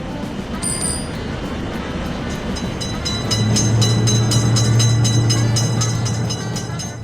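Railway crossing in a video game as a train passes, with a rapid repeating crossing bell ringing over a low steady rolling rumble that swells midway and then eases.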